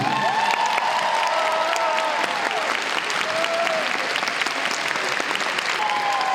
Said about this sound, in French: vous avez raison d'applaudir, puisque là, on va commencer.